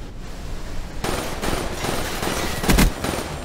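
Gunfire from a first-person shooter video game crackles in dense, rapid bursts, the shots loud and close, with a sharper volley near the end.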